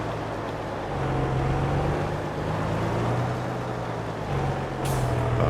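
A large tractor engine in Farming Simulator 22 drones loud and steady, a deep continuous rumble that rises slightly in pitch as it revs, with a brief hiss near the end.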